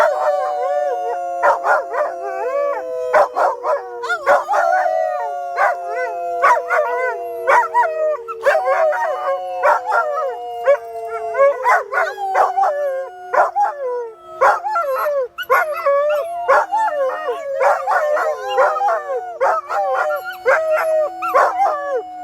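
Two dogs on the Appalachian Trail howl and yip together in a long wavering chorus, sliding pitches rising and falling close by for over twenty seconds, with sharp barks mixed in and no talk.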